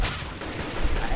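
Gunfire in the video game CS:GO: loud, dense bursts of gunshots filling the moment without pause, sharp and close, with no clear speech over them.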